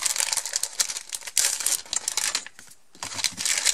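A plastic pack from a craft kit is torn open close up, giving loud, continuous crinkling and crackling with a brief pause before the rustling resumes.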